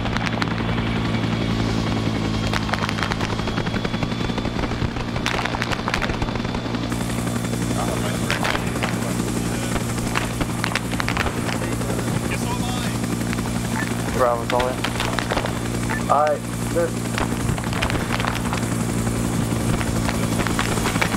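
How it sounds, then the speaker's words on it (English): A military helicopter in a Vietnam pullout operation video game drones steadily as it lifts off, its rotor hum constant and loud throughout, with faint voices in the background. "Alright, chopper is taking off now."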